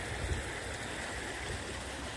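Water pours steadily over a canal overflow beside a lock, a continuous rushing, gurgling flow heard up close with no talking.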